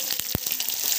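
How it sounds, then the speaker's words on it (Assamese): Spices and dried chillies sizzle in hot mustard oil with a continuous hiss broken by several crackling pops, one of them louder and close. "মিঠাতেলত ভাজিছোঁ সকলোবোৰ। মই শুকান জলকীয়াও দি দিছোঁ"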